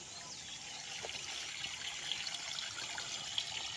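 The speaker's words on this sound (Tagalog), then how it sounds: "Tapos ang tubig dire-diretso po yan. Papunta naman po yan sa ilog." Spring water flowing along toward a river beside a property, a faint steady trickle and gurgle with a soft background hiss and no voices.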